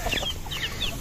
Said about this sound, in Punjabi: ਮੁਰਗੀਆਂ ਦੇਖੋ ਸਾਰੀਆਂ ਇੱਥਾਂ ਨਲਕੇ 'ਤੇ ਆ ਵੇਂਦੀਆਂ